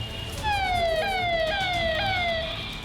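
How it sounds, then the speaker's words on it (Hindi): A wailing siren sweeps up and down repeatedly through the streets of Varanasi, loud and steady, with low traffic rumble underneath. "गलियों में सायरन की आवाज सुनाई दे रही है"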